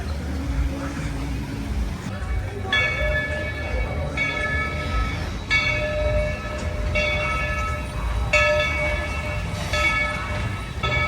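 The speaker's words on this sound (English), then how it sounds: "First train bells of the year." Railway crossing bells clang repeatedly over the rumble of a passing train at Dollywood, loud and close, with a continuous mechanical roar underneath.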